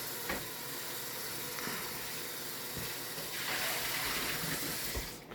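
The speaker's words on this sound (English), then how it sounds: "Now we're going to rinse this pot out real good because we're about to have to use this pot." A pot is rinsed under a running sink tap, giving a faint, steady hiss of water with a few soft knocks and clinks of the pot.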